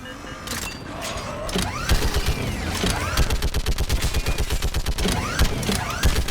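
Dense, rapid automatic gunfire from a Mass Effect 3 firefight, loud and close, with bursts overlapping into a continuous rattling barrage throughout.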